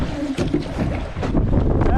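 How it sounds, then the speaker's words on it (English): Strong wind roars across the microphone out on the water in a small boat, gusting unevenly for the full two seconds. "Ah, it's a wind."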